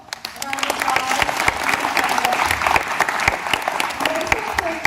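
An audience at an Amare presentation in Windsor, Colorado breaks into loud, dense applause, many hands clapping steadily for several seconds, with some voices mixed into the crowd noise.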